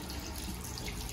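Tap water runs steadily into a sink at close range, a continuous even splashing hiss with no voices over it.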